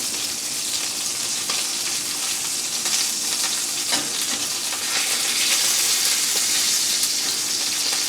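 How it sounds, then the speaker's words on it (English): Steady, dense sizzling of steak frying in a hot pan, continuous crackle and hiss throughout with no talking. "right here, you hear that sizzle"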